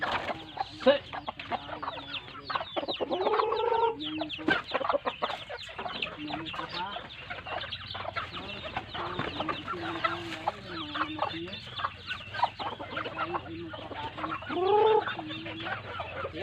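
Native chickens cluck and squawk around a feeding spot in a continuous, busy chorus of overlapping calls, fairly close, with a few louder cries and some faint talk in the background.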